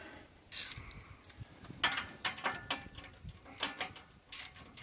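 A wrench or ratchet tightens a bolt on a tractor's 3-point hitch arm, giving a run of sharp metallic clicks and short bursts at close range, irregular in rhythm, with no talk.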